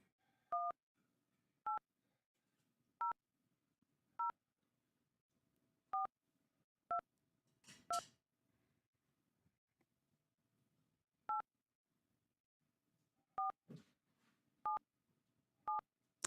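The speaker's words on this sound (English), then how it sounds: "I'm dialing that number." A telephone number is keyed in as about ten separate dialing tones, short crisp beeps spaced irregularly with pauses between them, plus a brief rustle midway, all fairly quiet and with no talking.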